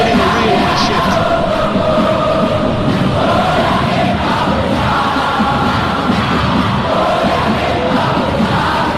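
Stadium crowd in a football video game roaring and applauding a substituted player, a loud, continuous wash of cheering and yelling that holds steady throughout.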